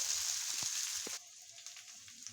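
Onions fry in a pan with a steady high-pitched sizzle, loud at first and then dropping to a softer crackle with occasional pops, close by and without talk.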